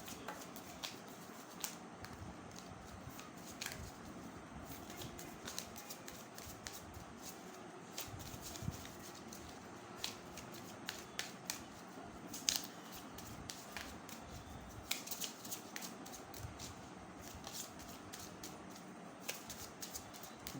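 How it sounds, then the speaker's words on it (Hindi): A deck of tarot cards is shuffled at length for a private reading, giving a faint, continuous papery rustle scattered with soft flicks and taps, close but quiet, with no talking. "देर तक शफल इसलिए कर रही हूँ बिकॉज प्राइवेट रीडिंग्स थी"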